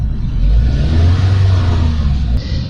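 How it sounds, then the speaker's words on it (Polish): The engine of a 2001 Opel Astra G Coupé runs loud and close with a steady, deep mechanical rumble and a slight rise in revs, continuing for a few seconds and then easing off at the end. "O, odpalił. Można przegazować."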